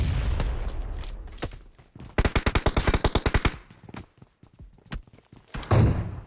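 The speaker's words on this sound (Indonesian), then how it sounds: "Dia ditembak dari jauh tuh kayaknya" PUBG Mobile gunfire heard from a distance: scattered single cracks, then a dense rapid automatic burst of roughly fifteen shots, then more sporadic shots and a heavier thump near the end, with no speech.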